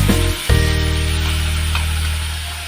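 A paste of ground cashew, coconut and melon seeds is poured into a hot pan for a ridge gourd dish, starting with a sudden splat and then a loud, steady sizzle that slowly fades.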